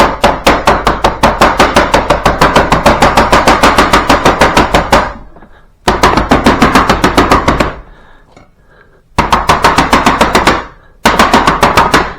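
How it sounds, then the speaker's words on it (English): A steak beater hammers meat for a meatloaf in fast, even volleys of loud, close thuds, stopping briefly between runs, with no voices. "Get the steak beater."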